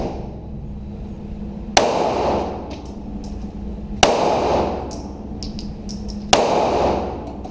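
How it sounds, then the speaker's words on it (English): Three loud handgun shots fired one-handed at targets on a shooting range, evenly spaced about two seconds apart, each a sharp crack with a long ringing decay and faint metallic pings afterward. "Now I'll shoot using my right hand only."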